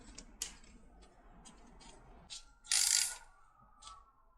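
A ratchet snugs up the oil drain plug on a KLR 250 motorcycle during an oil change: a few quiet, close clicking turns spaced out over a few seconds, with one louder rasping burst in the middle.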